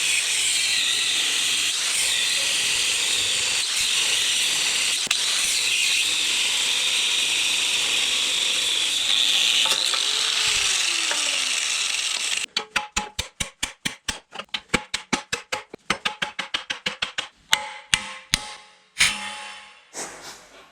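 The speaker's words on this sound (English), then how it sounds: "I'm gonna cut the stud as close as possible to the, flush with the base of the ball joint." Cutting the ball joint stud on a 2003-07 Honda Accord front lower ball joint: a long steady hissing grind for about twelve seconds, then a run of sharp rapid clanking strokes and ratchet-like clicks, close and fairly loud.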